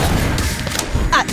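A bomb explodes in a Harry Potter video game, a short, close, booming blast with crackling bursts, heard briefly amid game effects.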